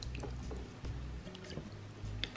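Wet paper pulp squishes and drips in a tub of water as a large handful is added and worked by hand, soft irregular squelches and drips close by with no talking.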